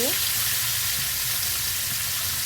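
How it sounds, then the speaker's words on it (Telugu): Fish fries in oil in a pan for a Kerala banana-leaf fish fry, making a loud, dense, continuous sizzle close up with no voices. "పెనం పెట్టుకొని దాంట్లో కొంచెం ఆయిల్ వేసుకొని ఫిష్ని ఫ్రై చేసుకోవాలి"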